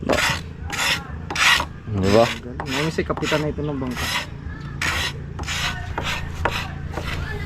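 Sandpaper is rubbed back and forth over wooden boat parts in a steady rhythmic rasp, roughly a dozen close strokes, with someone talking briefly partway through.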